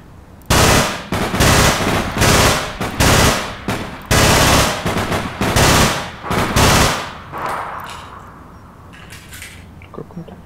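Machine gun fire in the online shooter APB Reloaded: loud, close sustained bursts in several rapid runs, then fading to quieter distant shots.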